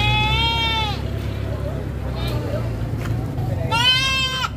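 Goats bleating at a crowded livestock trading market, two distinct quavering calls near the start and end over a constant low hubbub of voices and engine rumble.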